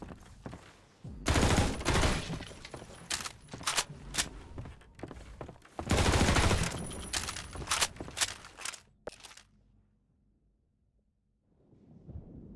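Gunfire from Half-Life 2 MMod rings out in two long, loud bursts of rapid shots with sharp cracks between them, then drops to near silence before a faint rumble returns at the end.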